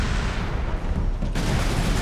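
A grenade explosion in Warhammer 40K: Space Marine, a loud, dense roaring blast and rumble filling the whole clip, close and heavy, with no talking.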